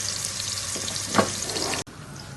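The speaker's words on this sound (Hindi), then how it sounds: "ये देखिए कोफ्ते हमारे फ्राई हो रहे हैं ऑयल में" Beef koftas, or meatballs, fry in oil with spices added to the pan. A steady broadband sizzle runs throughout, with one brief louder spatter near the middle and a sudden cut near the end.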